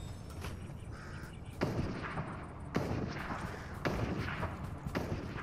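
Gunfire in the video game Fortnite, several sharp distant shots spaced about a second apart over a low game ambience, with no voices over it.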